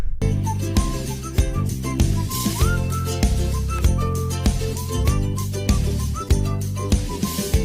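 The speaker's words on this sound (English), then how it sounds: "Quirky corporate whistling." Quirky corporate-style music carried by a bright whistled melody over a bouncy, steady rhythm section, loud and continuous with no talking.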